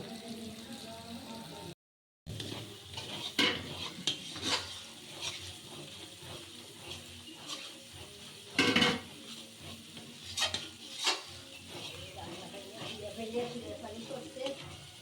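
Masala being stirred and fried in a pan for chicken curry, with soft intermittent sizzling and scraping strokes of a spoon against the pan, a brief dropout early on and a louder clatter near the middle.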